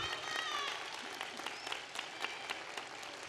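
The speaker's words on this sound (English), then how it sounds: "stand up and give them a round of applause" Applause for graduates' families from an audience at a mayor's graduation keynote, a dense steady clapping with a few scattered cheers, moderately distant and fading slightly over a few seconds.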